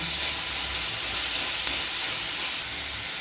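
Chopped tomato frying in a pan makes a dense, continuous hissing sizzle, loud and close, with no talking.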